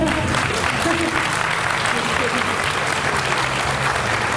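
Audience applause at the close of a symposium talk, a dense, even burst of clapping from a crowd, loud and close, with no pause throughout.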